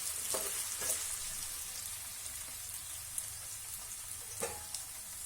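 Potato pieces with green chillies and curry leaves fry in hot oil in a pan for sabudana khichdi, giving a steady close sizzle with a few sharp stirring clicks and no talk.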